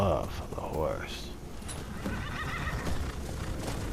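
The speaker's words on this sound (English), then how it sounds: "I love the horse." A horse in the Skyrim video game whinnies loudly, followed by clip-clopping hooves, with a person talking over the sounds throughout.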